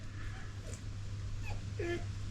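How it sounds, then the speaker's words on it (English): A puppy gives a few faint, high whimpers over a steady low hum in a quiet rural homestead setting, with no talking. "Puppy wants to go for a ride"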